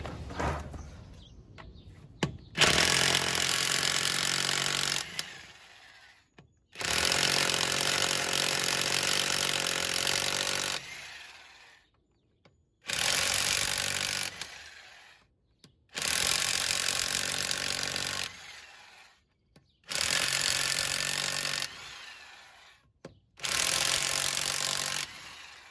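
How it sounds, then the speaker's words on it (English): An impact driver rattles loudly in close bursts of several seconds each, about six in a row with short pauses between, while it removes the front wheel of a Trailblazer with a 5.3L V8. "I'm going to go grab my impact driver and take the front wheel off."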